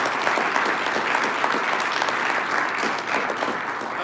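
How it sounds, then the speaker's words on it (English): A live-show audience gives a round of applause, a dense, steady wash of clapping that holds for about four seconds at moderate level with little talk. "Give him a round of applause."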